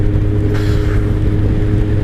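A 2003 Kawasaki ZR7S motorcycle engine on a cold ride, a steady close drone with a low hum and wind rushing across the microphone throughout.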